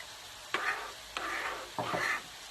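Vegetables and spices for a vegetable lasagne are mixed in a pan, making three distinct scraping strokes over a soft background sizzle, close and moderately quiet.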